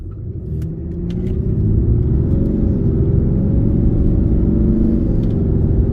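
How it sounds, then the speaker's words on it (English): A RAM Cummins diesel truck with a roar pedal accelerates hard in Sport Plus mode, its deep engine rumble rising and holding steady, loud and close from inside the cab with no talk. "when you step on that pedal, you get moving a lot faster"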